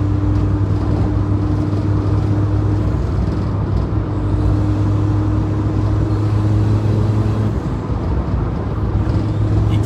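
A turbocharged Honda Jazz GE with an automatic gearbox drones steadily while driving, a loud continuous engine hum with constant road noise and no talk.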